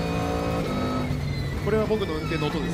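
A Toyota GR GT3 race car engine gives a deep, steady drone that swells slightly toward the end, with voices talking over it throughout.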